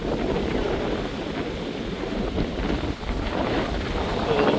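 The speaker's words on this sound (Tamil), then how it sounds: "தண்ணி வந்து இந்த வழியாக உடைஞ்சு கொண்டு போய் கொண்டு இருக்குது" Sea water breaks on the shore at a Jaffna coastline, a continuous rushing wash roughened by wind buffeting the microphone, steady and fairly close.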